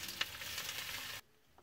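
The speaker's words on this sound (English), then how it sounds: "Look, I'm now frying the onions up." Onions sizzle in a pan on a motorhome stove, a faint steady hiss with one small pop, cutting off abruptly partway through to near silence.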